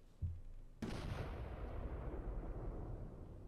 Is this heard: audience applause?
no